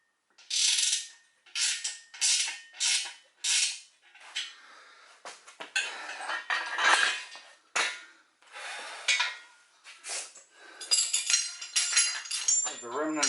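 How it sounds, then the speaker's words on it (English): A wrench tightens bolts on a reassembled Mustang part, giving bursts of sharp metallic ratcheting clicks in quick repeated strokes, close and fairly loud, followed by scattered clanks and handling noises. "I'm going to grab my wrench. Make sure all the bolts on this thing are tight"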